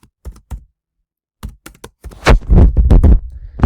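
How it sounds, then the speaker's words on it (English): Keys clack on a computer keyboard, a few sparse taps, a pause, then a quick flurry of typing with heavier thumps near the end, loud and close. "Notice I'm trying to type Joe here."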